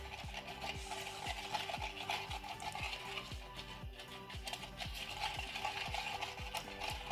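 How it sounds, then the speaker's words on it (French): Borax being stirred into glue to make slime, with rapid, regular scraping and clicking strokes of a utensil in a container, close and steady throughout with no talking. "on va mélanger jusqu'à ce que le borax s'imprègne bien à la colle"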